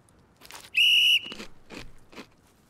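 A single sharp whistle blast, about half a second long, starts a game on the competition show Katman Adası, with soft crunching and rustling noises before and after.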